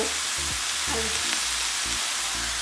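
Red and green onions with vegetables sizzling and frying in a hot pan for Guyanese-style chicken chowmein, a loud steady hiss close up with occasional stirring scrapes and low thumps.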